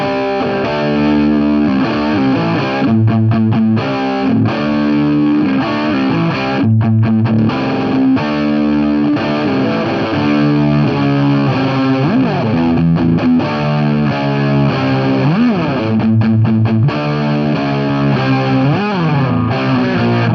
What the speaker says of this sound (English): let's just start off by hearing what a basic Greedtone OverDrive sounds like